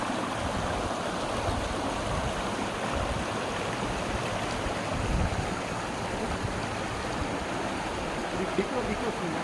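A stream of water flows steadily over a broad flat rock slab at Miryang Eolgeumgol, a continuous close rushing wash with no pauses, and no voices in the mix.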